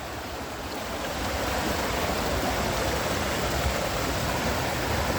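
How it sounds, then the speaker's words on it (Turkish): A waterfall swollen with snowmelt roars as a steady, even rush of water, loud and close, holding constant throughout with no voices. "Yine şelaleye ulaştım."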